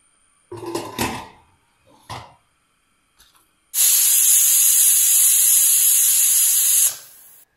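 A pressure cooker cooking avial vegetables sends out one steady, loud, high whistling hiss that lasts about three seconds and then cuts off, after a few short kitchen clatters.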